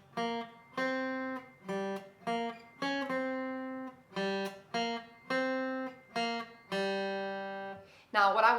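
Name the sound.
A riff on guitar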